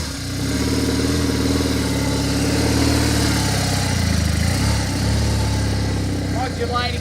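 A BMW motorcycle engine idles and murmurs steadily at close range as the rider pulls a tight right-hand turn from a standstill, with a loud continuous low rumble throughout and a voice speaking over it.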